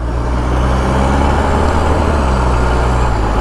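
A loud, continuous engine rumble from a large vehicle, steady and close, with no voices.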